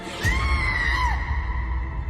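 A loud scream rings out from a bus in a Hindi audio drama: one drawn-out, piercing cry that wavers and then falls in pitch over about a second, above a low rumbling background.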